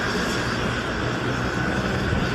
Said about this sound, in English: The blades are speeding up.